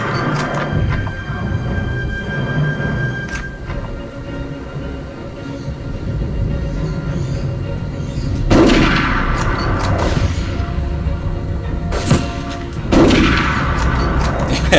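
Gunfire in the Medal of Honor video game, with a dense rumbling battle bed and several sharp, loud shot bursts cracking out near the end, no talk over it.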